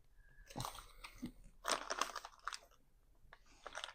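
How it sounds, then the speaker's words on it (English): A snack being chewed and crunched right at a microphone, with several bursts of crisp crunching and biting separated by short quiet gaps, close and intimate. "Is this mic picking up my chewing?"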